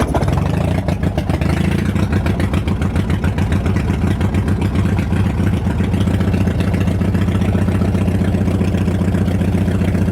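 Small motor that has issues and had been lying on its side, starting for a smoke test and running continuously for ten seconds with a loud, steady, rattling engine drone, close up.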